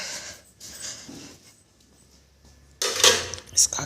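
Metal kitchen utensils are picked up and moved about in a home kitchen, with soft clatters early on and a burst of louder clinking and scraping near the end.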